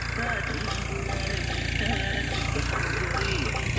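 A tractor engine runs steadily at a farm with solar-powered bore well and windmills nearby, a continuous low idling rumble throughout with someone talking over it.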